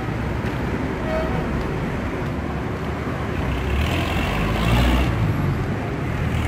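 Cars pass along a road in a steady, dense roadway rumble, swelling louder as a vehicle moves close around the middle of the stretch, then easing back, with no voices.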